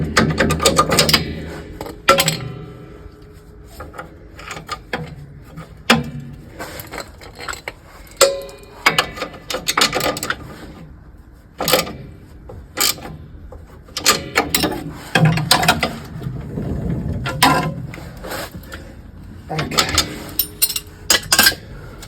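A ratchet clicks in repeated bursts while spring pan bolts are tightened on MG front suspension fitted with lowering spacers. The metallic ticking comes loud and close in irregular runs separated by brief pauses.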